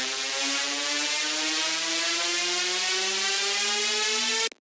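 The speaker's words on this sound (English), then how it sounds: "this is a slow pitch rise up, so it's 8 bars rate in the LFO" A synth riser with a slow LFO pitch rise climbs steadily in pitch over several seconds, a bright, buzzy, dense tone heard alone, cutting off abruptly at the end.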